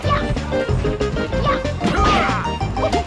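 A smash attack landing in Super Smash Bros. Melee, a sharp crash-like hit within dense, loud game audio and background music, with a few impact bursts over about three seconds.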